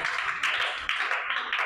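In a primary classroom, students clap for a girl in quick, rhythmic rounds of claps, close and bright, with short pauses between bursts.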